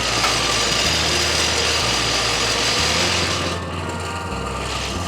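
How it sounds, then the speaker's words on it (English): An engine runs steadily inside a garage with a cracked-open door, a loud continuous drone with a throbbing low hum throughout, easing slightly toward the end, with no voices. "I keep running this engine in here"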